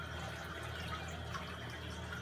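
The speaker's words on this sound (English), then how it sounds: "So water comes from the tank right here and into this compartment where I skim it." Water pours from a 560-gallon aquarium into a skimmer compartment, a steady, fairly faint splashing rush with light trickling and no talk.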